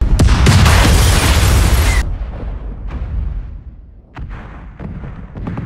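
A massive cinematic explosion levels a city in the film The Tomorrow War, a loud roaring blast lasting about two seconds that cuts off and leaves a decaying rumble with scattered debris thuds, with no voices.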